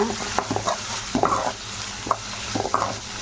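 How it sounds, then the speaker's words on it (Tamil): Vegetables sauté in a hot pan with a constant sizzle, while a spatula makes irregular scraping and clanking strokes close up throughout. "நல்லா வதக்கிக்கலாம் நம்ம"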